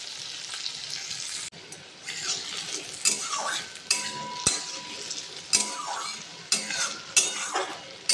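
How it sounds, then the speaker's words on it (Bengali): Potatoes sizzle in hot oil in a pan while a spatula stirs and scrapes them in repeated bursts, with the occasional clink of metal on the pan, close and clear. "কয়েকবার আলুগুলো নাড়াচাড়া করে ছোলার ডালটা দেবো"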